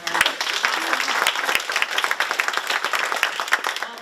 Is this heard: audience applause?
yes